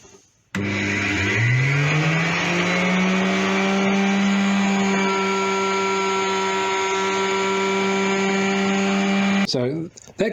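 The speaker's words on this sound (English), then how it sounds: "mine, I suppose, is a benchtop router" A benchtop router cutting body cavities in a guitar body spins up with a rising whine, then holds a loud, steady high-pitched drone for about nine seconds before winding down.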